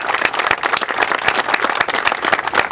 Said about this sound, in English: let's give all of our volunteers a round of applause